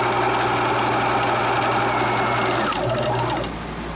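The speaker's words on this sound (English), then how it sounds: "You can just sew down the folded side." A sewing machine runs steadily while stitching down the folded side of a children's fabric mask, a loud continuous motor hum that shifts and eases near the end.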